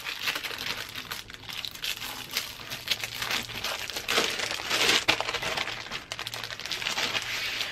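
Sheets of Stampin' Up Affectionately Yours specialty designer paper, heavier than regular paper but lighter than cardstock, are handled close up with continuous crinkling, rustling and soft crackling, no talking.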